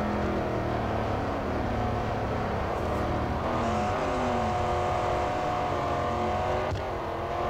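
A Jaguar F-Type SVR in Real Racing 3 drives sideways through a skid with its engine roaring loud and steady. The engine pitch slides and shifts as the car straightens up, and no one speaks over it.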